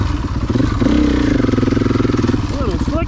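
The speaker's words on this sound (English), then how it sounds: "Here comes Polly Pissy Pants on the cheater bike" A dirt motorcycle passes close by on a slick adventure trail, its engine loud and throbbing with a rising and falling pitch, while a voice talks over it.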